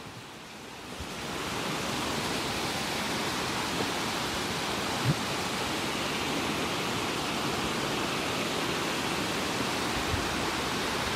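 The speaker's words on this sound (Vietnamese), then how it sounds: "Chúng ta cùng đi thác nào." A waterfall on a rocky mountain trail roars as a steady, loud wash of rushing water that swells in during the first second and then holds constant with no voices.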